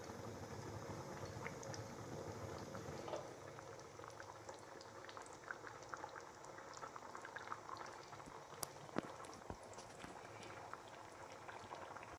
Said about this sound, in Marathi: आता छान याला कढ येऊ देऊया.